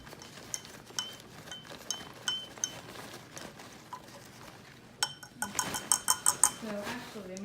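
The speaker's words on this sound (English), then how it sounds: "Why don't you mix it with that little spoon?" A small spoon stirs a baking soda mixture in a container, giving a run of light clinks and taps that quicken into a rapid burst of metallic tapping near the end, with quiet household background throughout.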